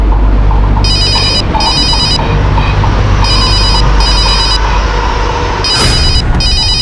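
A telephone rings in repeated double bursts with short pauses between them, loud over a steady low hum in a tense crime drama scene, with no talk heard during the ringing.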